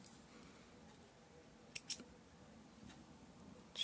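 Scissors trim loose thread while a fabric hot pad is being sewn, giving two quick, crisp snips near the middle of an otherwise quiet room recording.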